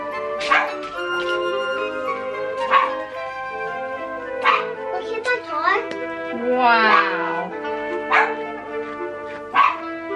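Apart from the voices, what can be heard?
dog barking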